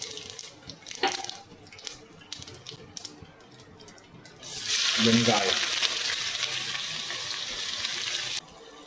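Onions for chicken biryani hit a hot pan and sizzle loudly, a bright sustained frying hiss that begins after a few quiet clinks and handling sounds, then cuts off near the end.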